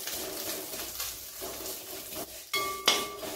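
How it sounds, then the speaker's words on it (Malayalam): Vermicelli (semiya) roasts in ghee in a pan while a spoon stirs and scrapes, a soft sizzle underneath and a metallic clink near the end, quiet and close, no talking. "ഒരു ബ്രൗൺ നിറ ആവണ വരെ നമുക്ക് വറുത്തെടുക്കാം"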